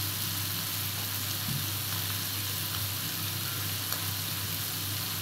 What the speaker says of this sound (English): And now we'll add the kangkong because the seafood doesn't need a lot of cooking